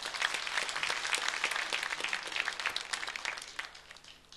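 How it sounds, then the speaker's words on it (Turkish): An audience on a Turkish television show applauds as a guest is called up to receive a plaque, steady moderately distant clapping that thins out toward the end. "Şahin Giray Çapık hocamızı alkışlarla alıyoruz"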